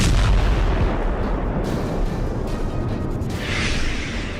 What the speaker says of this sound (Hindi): रूस के काला सागर बेड़े के मुख्यालय पर एक भीषण मिसाइल हमला किया गया।